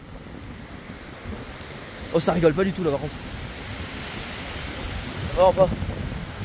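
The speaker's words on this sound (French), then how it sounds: "Il y a un bruit de vent qui émane des environs," Gusting wind from storm Herminia roars steadily through a wooded area, a broad rushing noise with stronger surges, while someone speaks briefly twice over it.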